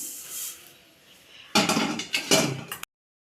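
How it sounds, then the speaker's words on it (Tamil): Roasted dal and coriander seeds pounded in a kitchen for sambar powder, giving a run of sharp, loud knocking thuds in uneven bursts after a quieter stretch of faint rustling. "இப்போ இதையும் அந்த மல்லியோடு தட்டிக்கிடுவோம்"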